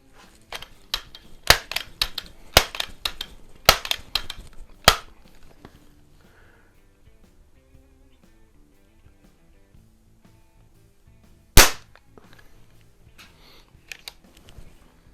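Crosman air rifle shots fired offhand, a series of sharp, close cracks in quick irregular succession, with a pause before one more loud shot and a few faint clicks.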